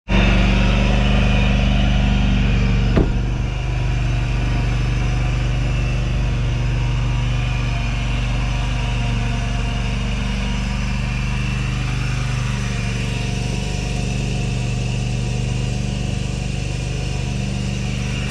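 A Toro mower engine drones loud and steady, close by, while pulling a core aerator weighted with two 80-pound sandbags, a constant low rumble with one sharp knock early on.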